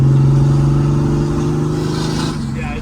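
An old diesel Mercedes with an OM603 engine and a big HY35 truck turbo pulls hard in third gear, a loud steady engine drone that shifts pitch near the end, heard from inside the car.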